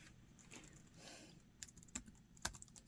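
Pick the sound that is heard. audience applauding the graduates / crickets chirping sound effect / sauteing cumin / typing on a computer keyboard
typing on a computer keyboard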